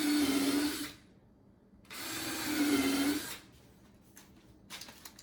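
A power drill countersinks screw holes in a wooden patio chair, two close, loud whirring bursts of about a second each, separated by a pause, followed by faint clicks and handling noise.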